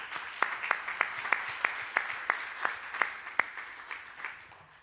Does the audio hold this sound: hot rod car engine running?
no